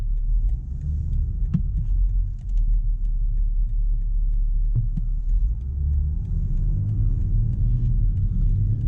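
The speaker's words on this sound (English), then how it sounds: "Very nice rumble, no no sort of tractory feeling anywhere. This is a very nice engine." A BMW X5 30d M-Sport with a straight-six diesel gives a steady, low rumble while driving, with smooth, even engine throb and road noise and no talking.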